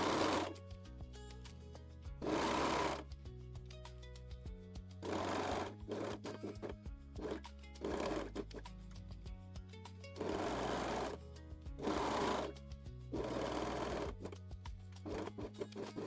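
A sewing machine stitches through three layers of bralette fabric along the edge in several quick bursts of rapid whirring, separated by pauses, with steady music playing underneath.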